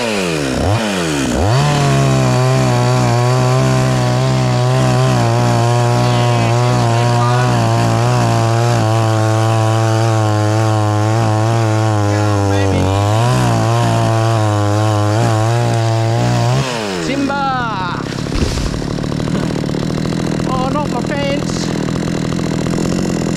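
Chainsaw cutting down a large tree on Macleay Island in Moreton Bay, Queensland, running loud and close with a steady high whine and slight pitch wavers for about fifteen seconds before stopping, then quieter rustling and crackling.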